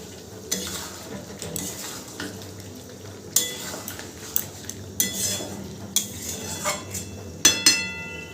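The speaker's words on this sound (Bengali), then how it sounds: "ভেজে রাখা আলুটা দিয়েও খুব ভালো করে মিশিয়ে নেব।" Fried potatoes being stirred into chicken curry in a pot, with a spoon scraping and clinking against the metal in irregular sharp knocks over a soft sizzle.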